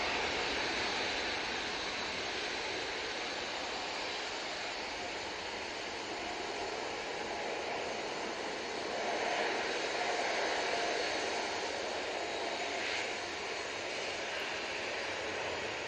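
A Jet2 Airbus A321neo at Manchester Airport produces a steady, broad engine roar that stays loud and unbroken throughout, swelling slightly near the end, with no voices over it.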